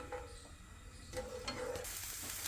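Ginger sizzling in desi ghee as paneer bhurji gets started, a soft, quiet frying hiss with light stirring, brief scraping touches and no talk.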